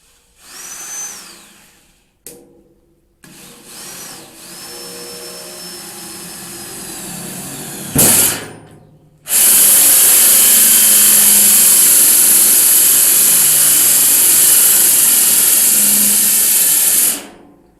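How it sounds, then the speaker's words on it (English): A loud Bosch power drill with a hole saw whines in short bursts, then runs steadily for several seconds at high speed, grinding through material up close. "I'm going to use the world's shittiest drill by Bosch"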